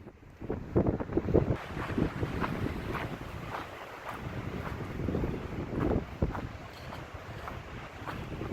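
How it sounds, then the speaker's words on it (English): Strong wind at a mountain overlook in Mueller State Park, Colorado, buffeting the microphone in loud rumbling gusts that rise and fall throughout. "it's a little too windy"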